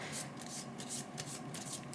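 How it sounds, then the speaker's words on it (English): A deck of playing cards being shuffled for a solo card game, giving a steady papery riffling and rubbing texture with repeated flutters, close up and fairly quiet, with no talking. "And then you're going to give it a shuffle."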